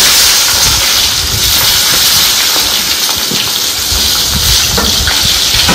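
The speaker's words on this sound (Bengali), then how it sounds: "এখন আমি এই তেলে একবার বেগুনগুলি দিয়ে দেবো।" Eggplant pieces fry in hot oil, giving a loud, steady close-up sizzle and crackle that holds without a break from start to finish.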